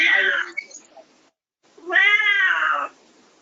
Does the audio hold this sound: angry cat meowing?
yes